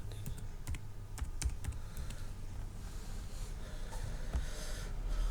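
Typing on a computer keyboard while entering names into Excel, a quick run of close key clicks that thins to sparse taps over a low steady background hum.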